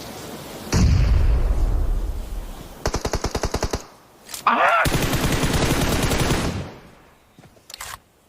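Video game gunfire: a rapid automatic burst of evenly spaced shots, then a loud blast and a longer, denser volley, fading to a few scattered pops, with faint talk.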